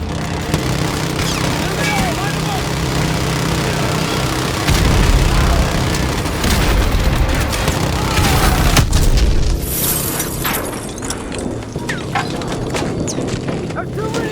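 Heavy in-game combat from Modern Warfare II Remastered: repeated loud booms of explosions and cracks of sniper fire over a dense, continuous battle din, with a big blast surge in the middle before the roar thins slightly.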